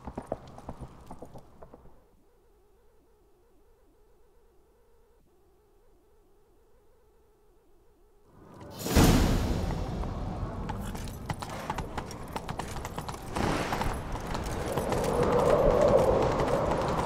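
After a quiet stretch with a low hum, loud rapid hoofbeats of a galloping horse in The Witcher 3 kick in and keep pounding steadily to the end.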